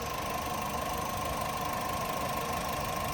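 A car engine said to run on hydrogen idles steadily, giving a continuous even hum with a faint mechanical tick and no talking.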